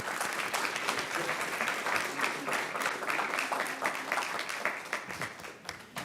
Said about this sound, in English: We're going to give you one more big round of applause.